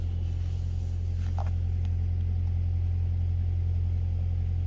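A car engine runs steadily at idle, a constant low rumble with a faint hum throughout and a couple of brief clicks; the car is set up to be driven with a PS4 controller.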